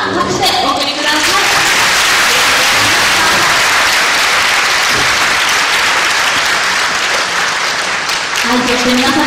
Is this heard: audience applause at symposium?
yes